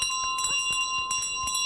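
The bell carried by the goose in Untitled Goose Game rings steadily with a bright sustained tone, while rhythmic soft thuds sound under it as the goose moves along. The bell stays clear throughout, and no one talks.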